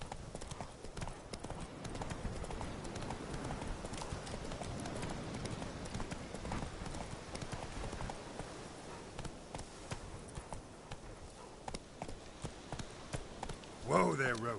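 Roach, the horse in The Witcher 3, gallops in a continuous, close run of rapid hoofbeats over a steady outdoor background, with a short louder thump near the end.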